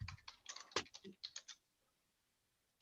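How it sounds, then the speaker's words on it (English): Keys on a computer keyboard click in a quick irregular burst of taps, faint and close, stopping after about a second and a half, followed by quiet with one last tap. "I hear you typing."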